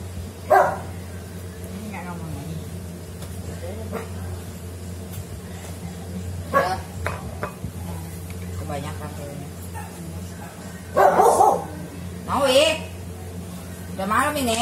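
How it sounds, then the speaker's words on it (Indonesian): A dog barks at night in a home kitchen, several short loud yips and barks scattered over steady talk, with a low background hum throughout. "Ada anjing ini ya? Ya tahu gak. Ini kan berisik."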